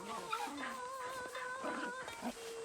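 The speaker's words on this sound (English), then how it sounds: "this is going to be the golden Akita puppy" Golden Akita puppy in Assassin's Creed Shadows whimpering and yipping in thin, high whines over steady in-game background ambience, close and moderately loud across a few seconds.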